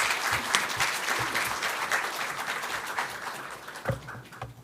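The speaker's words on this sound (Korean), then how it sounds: "감사하는 마음으로 박수로 맞이하겠습니다" A church congregation claps in sustained applause at an early-morning revival service, dense and steady throughout, with a few louder hand claps standing out near the end.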